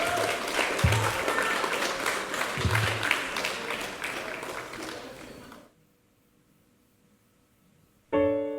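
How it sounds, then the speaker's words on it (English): Audience applause at a Welsh talent show, dense clapping from a crowd that fades out after about five seconds into near silence before music starts. "a massive round of applause up to the front for Madison"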